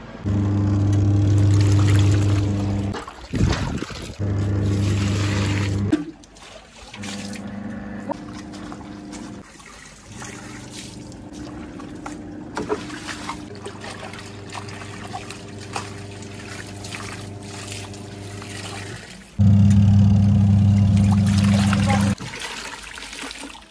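Water from a motor pump trickles and pours steadily while a washing machine runs at home, with louder gushing stretches at the start and near the end, and people talking over it.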